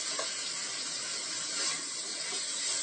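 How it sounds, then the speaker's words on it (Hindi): Spices cooking in a pan for pasta, a dense continuous hiss and sizzle close up, steady and bright with no speech over it. "और इसमें हम अपने सभी मसालों को ऐड कर देंगे और इसे चलाएंगे।"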